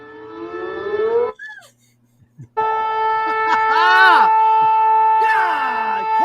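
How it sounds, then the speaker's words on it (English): A wailing siren rises and falls in long sweeps, loud and close, cutting out briefly before returning with a steady tone and repeated swoops. "I hope Giant Sports Talk Live's the only place we hear that siren, Eric."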